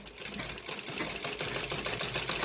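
A sewing machine runs continuously at close range, stitching net cloth for a ladies' suit with a fast, even rattle and no talking.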